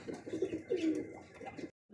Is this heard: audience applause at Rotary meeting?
no